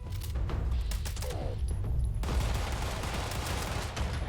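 Gunfire from the Fallout 76 video game: a dense, sustained volley of shots rattling continuously, loud and close throughout with no talk.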